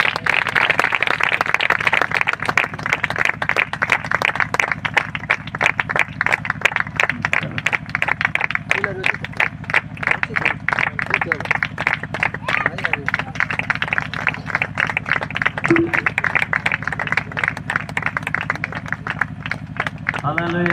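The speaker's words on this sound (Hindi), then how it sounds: "ताली बजातु।" Audience at a worship meeting clapping hands in a steady, continuous rhythm throughout, dense and fairly loud, with some crowd murmur underneath.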